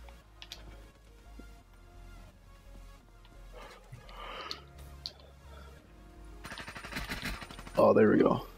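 Gunfire in Call of Duty Black Ops 3 comes in short scattered shots and clicks, then a louder burst of rapid fire near the end, under game sound effects and a speaking voice.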